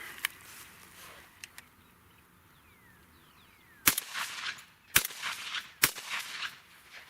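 Outdoors, a Fabarm L4S Sporting 12 gauge clay target shotgun fires three loud, sharp reports with 1 ounce loads, about a second apart, following a quieter stretch with faint bird calls.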